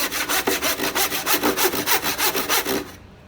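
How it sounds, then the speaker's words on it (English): A hand saw cuts through wood in steady back-and-forth strokes, about a dozen rhythmic rasps, close and clear, ending abruptly. "let the saw do the work"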